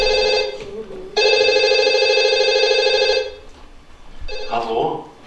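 An old-style telephone bell rings on stage during a theatre play, two loud trilling bursts separated by a pause, followed by a fainter partial ring with a voice briefly heard.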